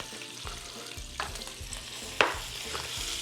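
Ground beef stirring and frying in a pan beside pushed-aside bacon for picadillo stuffing, a soft continuous sizzle with scraping stir strokes and one sharp utensil clack against the pan.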